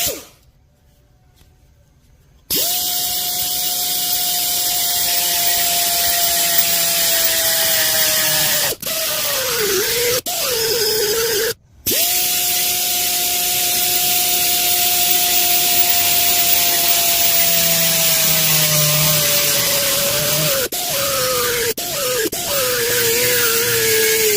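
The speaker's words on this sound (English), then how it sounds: "Now I'm going to take my die grinder and put a better center in it, and then I'll drill it" A high-pitched die grinder whines grinding on metal of a Ford 351 Windsor engine part in two long sustained bursts with brief stops between, loud and close, with no talking.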